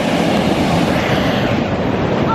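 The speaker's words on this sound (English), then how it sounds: "Look at that wave." Ocean surf rolling onto an East Coast beach, a continuous loud wash of breaking waves and rushing water with wind buffeting the microphone throughout.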